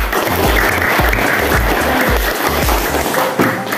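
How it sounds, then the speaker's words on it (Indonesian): Classroom group clapping together, a dense close burst of applause that holds steady from start to end with no voices over it. "tepuk tangan"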